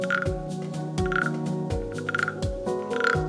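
A handheld frog-croak noisemaker toy is scraped over and over on a golf course, giving a loud, rhythmic, ratchety croaking pulse about twice a second, close and without any voices.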